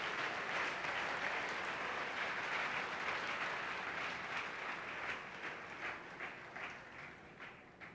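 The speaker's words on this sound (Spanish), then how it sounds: "Dale un aplauso" A church congregation at a Sunday service breaks into dense, sustained applause from many hands, full and steady at first, then thinning and growing patchier toward the end.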